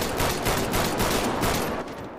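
Dense rapid gunfire from a GTA V roleplay shootout rattles in overlapping bursts throughout, loud and continuous with no talking.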